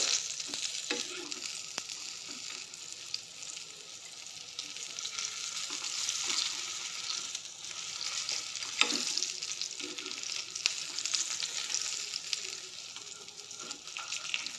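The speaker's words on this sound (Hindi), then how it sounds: "एडा मु सेलो फ्राई करछि, आपण चाहिले एडा डीप फ्राई भी करि परिबे।" Chicken pieces shallow frying in oil in a home kitchen for a KFC-style dish, giving a steady, even sizzle and crackle throughout with occasional louder pops and scrapes, no talking.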